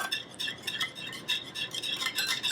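Salmon marinade stirred briskly in a bowl with a utensil, a quick run of close, rhythmic scraping clinks and wet swishes with no talk.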